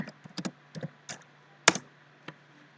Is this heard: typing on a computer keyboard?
yes